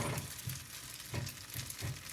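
Steady crackling sizzle of fried rice and cabbage frying in a hot nonstick pan, with soft rhythmic low thumps of stirring or shifting.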